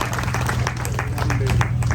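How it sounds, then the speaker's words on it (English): A crowd at a community gathering of local leaders in Karuma claps in a loose, brisk patter over a steady low hum, the hand claps close and fairly loud throughout. "Clap for them. Clap for them."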